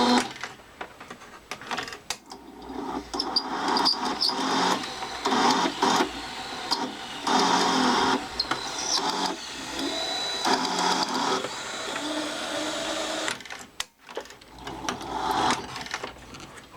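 The motor of a Ferguson 3V36 VHS recorder runs noisily with a whirring, rattling mechanical drone that wavers in level and briefly drops out near the end, heard close up and alone.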